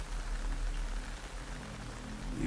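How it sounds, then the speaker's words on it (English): Steady rain falls in Metal Gear Solid Delta: Snake Eater, a dense, even hiss of drops on surfaces with a low rumble underneath, continuous and fairly near throughout. "You can entertain me until the rain stops."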